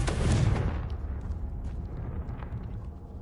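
A Confringo blasting spell goes off in the Hogwarts Legacy video game: one loud, booming explosive burst at the start, then a rumbling tail that slowly fades.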